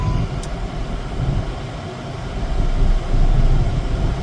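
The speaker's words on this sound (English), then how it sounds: "I am putting the key in and starting the car without putting my foot on the gas" A PT Cruiser with about 61,000 miles, started with the key and no throttle, settles into a low, steady engine rumble that swells slightly toward the end, heard close and alone without any talk.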